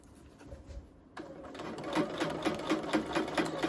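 A sewing machine stitches a set-in blazer sleeve through five or six layers at the seams, starting after a brief pause, then running as a steady, rhythmic, close mechanical whir.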